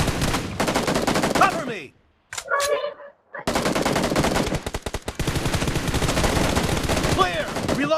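Dense bursts of automatic gunfire from the battle-royale shooter BGMI in a team deathmatch, loud and nearly continuous with short pauses, while a voice calls out briefly.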